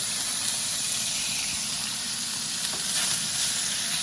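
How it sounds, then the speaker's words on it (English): Steak searing in smoking-hot oil in a pan for lomo saltado: a loud, steady, close sizzle and hiss that fills the whole moment without break. "the pan is starting to smoke a little bit, which means that the oil is super hot, and my lovely assistant will add our steak"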